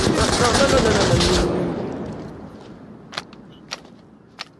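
Pistol fire in the virtual reality shooter Onward VR: a loud burst of shots in the opening second and a half, decaying away, then three sharp, isolated cracks spaced about half a second apart.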